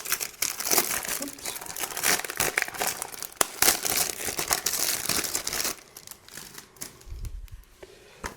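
Plastic wrapping crinkling and tearing as a Blu-ray is unboxed, close, busy rustles and crackles for several seconds, then quieter handling.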